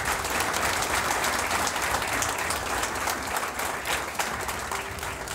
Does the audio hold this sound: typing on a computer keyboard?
no